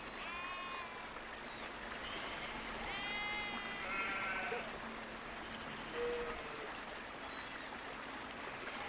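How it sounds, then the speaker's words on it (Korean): A herd of over a hundred sheep and goats on a remote Himalayan pasture, driven by nomads: scattered bleats near and far, several overlapping, over a steady rushing background like a nearby stream. "100마리가 넘는 양과 염소를 몰고 일주일을 이동해 왔다."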